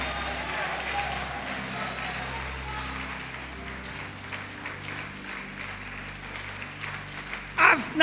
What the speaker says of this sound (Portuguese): Pode aplaudir e glorificar o Senhor Jesus e adorar.